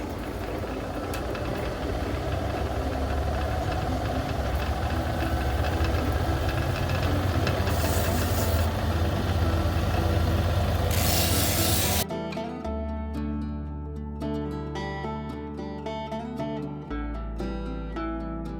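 A lapidary wheel polishes Utah yellowcat agate with a steady raspy rubbing and motor whir for about twelve seconds, then the grinding stops and a quieter machine hum with faint clicks carries on alone.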